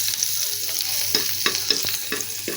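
Finely minced garlic sizzles in butter in a pot, with a steady crackling hiss broken by several soft scraping stirs. Close and brief, with no talking.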